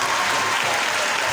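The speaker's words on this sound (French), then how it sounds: "Sous vos applaudissements" Dense, continuous audience applause for a CM1 mathematics competition prize winner at a school awards ceremony, loud and unbroken, with no voices over it.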